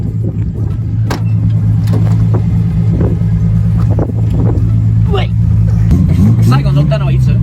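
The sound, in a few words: Nissan Fairlady Z S30 engine while driving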